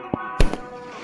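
Firecrackers burst at a temple festival for Pathirakali Amman in Vilathikulam, giving two or three sharp cracks close together, the middle one loudest, over a low background.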